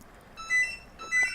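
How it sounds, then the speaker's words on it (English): A landline phone in a bedroom rings with two short electronic trills, fairly close and clear, separated by a brief pause, with no one talking over them. "Oh, brilliant. That's a phone."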